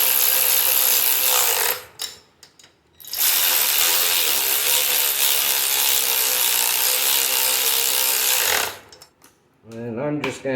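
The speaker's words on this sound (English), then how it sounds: "I'm just going to do a final snug up here with the ratchet" A ratchet tightening engine bolts on a 1978 Honda Express NC50 moped clicks and buzzes in rapid bursts, loud and harsh, with two short pauses and a brief voice near the end.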